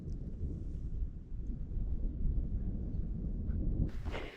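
Low thunder from a storm overhead on the Alta Via 1 trail in the Dolomites rumbles steadily for several seconds, then a harsher gust of noise bursts in near the end.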